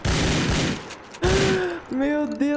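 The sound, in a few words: gunfire from video game GTA IV online, women shooting at player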